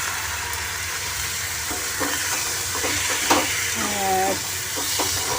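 Dal poured into hot oil that has just been tempered with spices in a home kitchen, crackling into a loud, steady sizzle with stirring scrapes and a brief tonal clink partway through.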